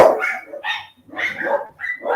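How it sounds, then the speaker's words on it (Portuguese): Dogs barking outside in a series of rapid, yappy barks that come in bursts with short pauses between them, moderately close and loud. "tá escutando os cachorros lá?"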